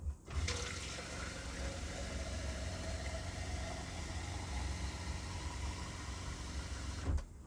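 A steady rush of about a litre of water pouring continuously into a cooking pot for several seconds, fairly close, with no talking.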